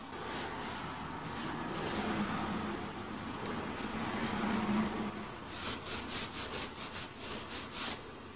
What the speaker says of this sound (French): Ça, c'est encore mouillé, je vais essayer de l'essuyer un peu.